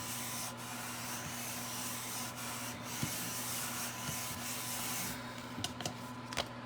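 Paper is burnished onto a handmade flower card with steady, soft rubbing strokes, close but faint against a quiet background, with a few light taps near the end.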